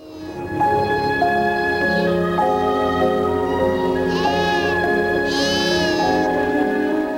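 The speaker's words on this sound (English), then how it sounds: "Sheep roam the fields as the sun begins to set." Sheep bleating in an open pasture near Canberra, Australia at sunset, several overlapping calls from a few animals, loud and close, with steady wavering cries continuing throughout.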